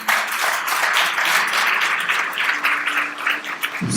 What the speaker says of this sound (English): Please, a round of applause, His Excellency, Papa Owusu Nkrumah.